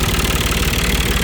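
A Long 350 farm tractor, a 35-horsepower machine, idles nearby with a loud, steady low rumble and even rhythmic chug, alone without voices.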